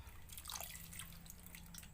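Yanang leaf liquid trickles and drips into a pot of freshly boiled water, a faint, soft splashing pour heard alone with no talk.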